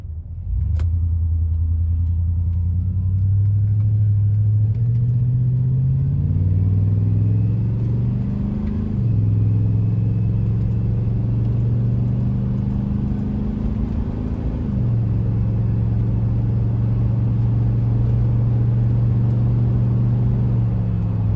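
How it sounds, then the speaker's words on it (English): In-cab drone of a 2001 GMC 2500HD pickup with a 6.0L V8 and Gibson dual sport exhaust, pulling away from a stop, revving up through several gear shifts, then cruising at a steady 55 mph with a continuous low rumble. "So this is a test for the inside of the cab noise, taking off and cruising at 55."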